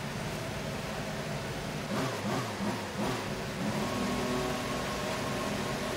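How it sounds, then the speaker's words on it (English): McLaren Formula 1 car engine from the racing game F1 2018 at the Hungarian Grand Prix, a dense steady mechanical drone with a slight swell partway through, continuous and fairly loud with no voices. "Engine fired."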